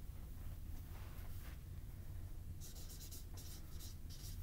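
A pen scratches notes onto paper in short, faint strokes with gaps between them, heard close over a steady background hiss, with no one talking.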